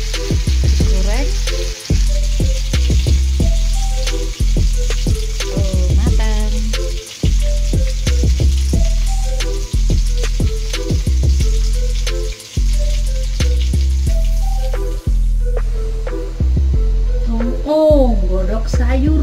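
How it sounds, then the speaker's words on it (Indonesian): Sausages sizzling in a hot pan in a home kitchen, loud steady frying with crackles and spatters, briefly interrupted several times as if stirred, with low talk mixed in. "Sosisnya digoreng."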